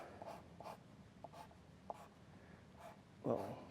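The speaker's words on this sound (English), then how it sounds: "black colored pencil again to a little pretend inking" A black colored pencil scratches across paper as someone inks a fabric and clothing drawing. It comes as a string of soft, brief strokes, with one heavier scrawl near the end, close and quiet.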